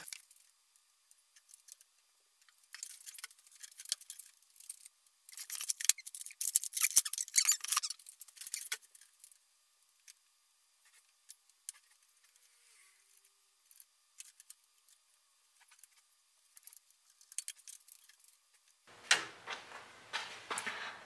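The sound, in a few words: measuring and cutting closet door bottom rail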